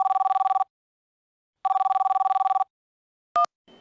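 Telephone ringing while a call is placed, two long electronic ring bursts separated by silence, followed by a short click as the line connects.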